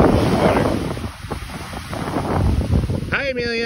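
Wind gusts buffet the microphone at an ocean beach while surf rumbles and washes in the background; near the end a voice briefly cuts in.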